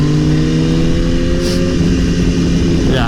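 Sport motorcycle engine on a Saturday night ride with sport bikes such as a BMW S1000RR, Kawasaki ZX10R and Yamaha R1, a loud close drone holding steady before the pitch climbs near the end, with no talking.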